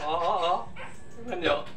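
A playful, spoiled pet dog gives short yips and whimpering barks close by, in two brief bursts, while a person speaks over it.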